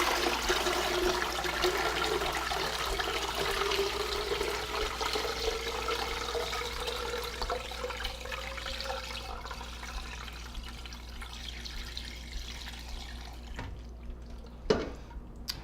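Chicken stock pours steadily through a strainer, a continuous watery rush that slowly thins out, ending with a few drips and a light tap near the end.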